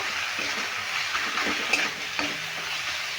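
Spice paste sizzling steadily in a pan with potatoes for a winter red radish ghonto, with a few scraping stirs and a soft clink or two cutting through the continuous frying hiss.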